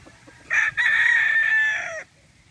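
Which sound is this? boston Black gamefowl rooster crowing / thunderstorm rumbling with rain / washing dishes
boston Black gamefowl rooster crowing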